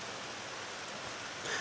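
Rain pours steadily during a bike ride around Exeter in the UK, a dense, even hiss with no talking, swelling slightly at the very end.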